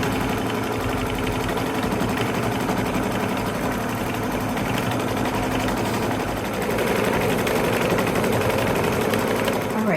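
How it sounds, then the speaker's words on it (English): An embroidery machine stitches a background design for a Kimberbell Nativity bench pillow in a small 5x7 hoop, a loud continuous rapid needle chatter that shifts slightly in tone partway through. "it's going to go ahead and start stitching our first background"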